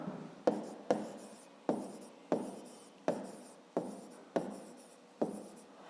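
Pen strokes on paper while a square's perimeter formula is written out in a fifth-grade math exercise, eight short scratchy bursts in a steady rhythm, close and clear with no talking.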